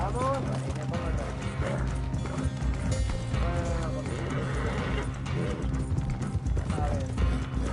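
Horse hooves clip-clop steadily at a gallop in Red Dead Redemption II online, with a brief whinny or two, a mechanical clatter running underneath and someone speaking over it throughout.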